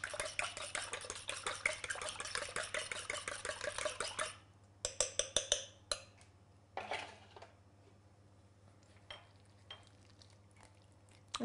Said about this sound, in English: I beat up the eggs.